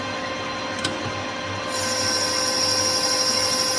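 A manual lathe taking a quick parallel pass with a carbide tool during motorcycle workshop machining, giving a steady whirring hum with a faint tick near the start and a brighter, louder cutting hiss that begins partway through and holds to the end.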